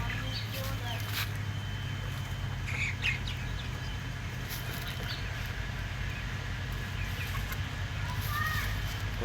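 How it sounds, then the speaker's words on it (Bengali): Poultry chickens in a large shed cluck and call in scattered bursts over a steady low fan hum, with someone talking through it. "পোলট্রি মুরগি দেখতে পাচ্ছেন।"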